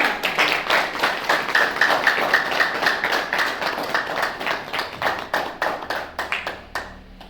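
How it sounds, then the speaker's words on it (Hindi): Applause from a meditation gathering honoring a teacher, dense rapid clapping that holds steady and then thins into scattered claps before fading out. "इतनी धीमी तालियां"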